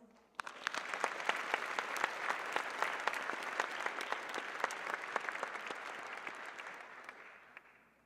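Audience at the Model Laboratory School 2025 graduation and commencement applauding Dr. Williamson, a full swell of clapping rising quickly, holding steady for several seconds, then fading out.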